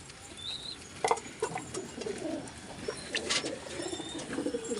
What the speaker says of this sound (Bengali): উড়াই পায়রা খাওয়ানো হয়ে গেলে আমি ধাড়ি জোড়াগুলোকে ছাড়বো, খাওয়াবো।